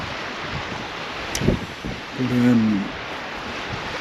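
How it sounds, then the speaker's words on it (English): Wind gusting across the River Humber shore on a cold day, a steady broadband rush buffeting the microphone with a brief voice and a short tonal sound partway through. "what's the wind, about 15 mile an hour"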